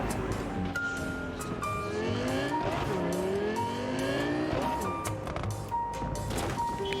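Car in the video game Cyberpunk 2077 driving hard, engine loud and steady with repeated tire squeals and skids, alone without talk.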